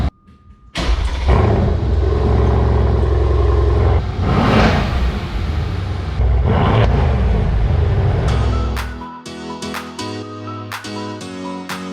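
A Mercedes-AMG with stock exhaust cold-starts with a loud starter crank and roaring flare, then settles into a steady rumbling high idle, close by and alone, before the revs drop into a quieter, lumpy idle near the end.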